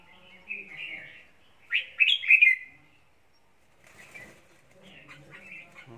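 Small birds chirp in bright bursts with a quick flutter of wings, a louder cluster of calls in the middle, then softer scattered tweets and rustling toward the end.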